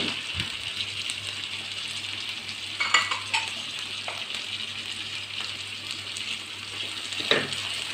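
Tomato and small capsicum stirred in a pan with softened onion, a steady low sizzle running throughout with a few brief scraping stir sounds, fairly quiet and close, no talking.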